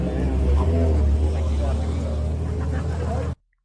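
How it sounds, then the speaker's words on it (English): A loud engine with a throaty muffler rumbles steadily nearby, its deep drone carrying under people talking until it cuts off abruptly. "muffler or whatever the hell that engine sound is"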